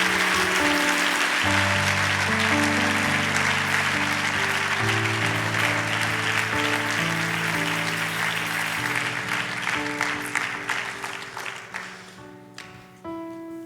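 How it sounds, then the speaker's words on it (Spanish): Congregation applauding during a church service, dense clapping blended with sustained organ or keyboard chords, loud and continuous before thinning and fading out toward the end. "Vamos a darles un aplauso"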